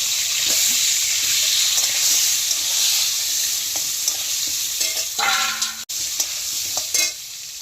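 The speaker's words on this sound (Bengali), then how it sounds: "এবার আমরা লাল করে আলুটা ভেজে নেব।" Potato pieces frying in hot oil with turmeric in a pan for a Bengali mutton kosha, a steady close sizzle with occasional stirring and scraping clatter, no talking.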